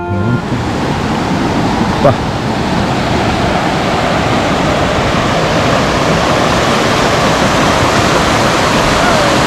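A meltwater stream from melting ice in Europe rushes steadily and loudly, a constant broadband roar of flowing water with no pauses throughout.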